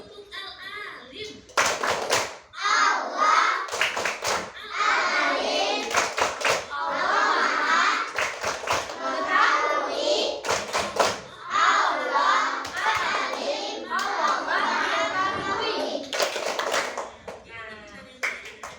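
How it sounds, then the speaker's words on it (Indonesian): A class of children repeats the Tepuk Al-Alim clapping chant, with clusters of crisp, loud hand claps punctuating their lively, rhythmic group chanting and voices. "Kita ulang sekali lagi. Tepuk Al-Alim."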